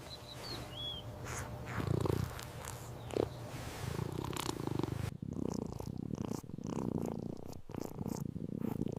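A steady, low rumbling purr from a small kitten at a vet visit, close and continuous, with a few soft rustles and bumps mixed in.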